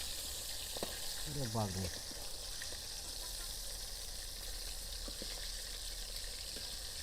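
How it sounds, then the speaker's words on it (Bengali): Pangas fish sizzles steadily in hot oil in a pan, a dense, continuous crackling hiss close by, with a brief spoken exclamation over it. "মাছগুলোকে সুন্দর এক পিঠ ভাজা হয়ে গেছে, আর এক পিঠ উল্টিয়ে নেব।"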